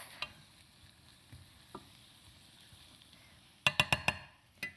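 A few soft clinks of a utensil against a pan as vegetables are stirred, then a quick cluster of sharper scrapes near the end, faint and close with a low sizzle beneath.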